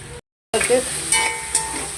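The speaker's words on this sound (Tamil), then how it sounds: "கத்திரிக்காய் பொரிக்கிறேன்" Eggplant sizzles in hot oil in a pan, a close crackling hiss after a brief moment of silence.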